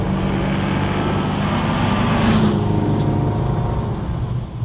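1950 Chevrolet Morrison farm truck accelerating, its engine a loud, close, continuous rumbling drone that swells in the middle and then eases off toward the end, with no talking.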